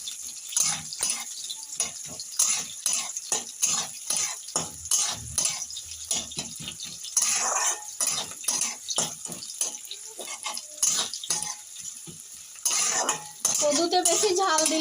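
Onion pieces stir-fry in oil in a pan, with a metal utensil scraping and clinking in a steady rhythm over a faint sizzle, close and moderately loud.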